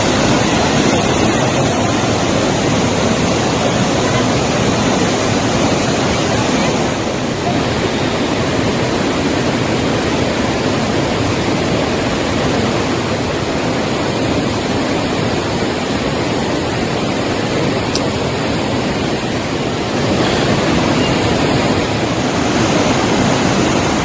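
Floodwater of the swollen Godavari river rushes continuously in Nashik during heavy monsoon rain, producing a loud, steady roar of churning water with no voices heard.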